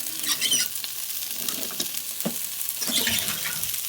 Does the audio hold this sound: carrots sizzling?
yes